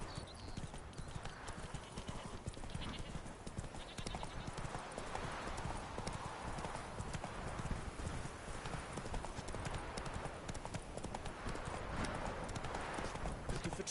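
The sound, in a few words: horse Roach hooves clip-clopping, from a video game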